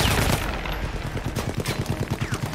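Machine gun fire in the video game Battlefield 1, a rapid loud stream of even, close bursts rattling steadily from start to finish with no talk.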